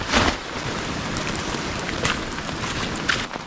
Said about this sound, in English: I need to get out of this rain.